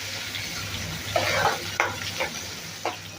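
Spring onion vegetable dish frying in a pan, with a low continuous sizzle and a few sharp spatula scrapes and stirs over it, close by and fairly soft, with no voices.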